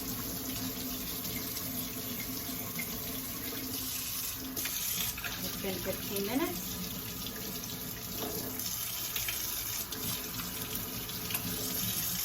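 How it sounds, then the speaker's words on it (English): A tap runs steadily throughout with a continuous splashing hiss as a mug is rinsed in warm water, and a voice speaks briefly over the flow. "we're going to rinse it in some warm water"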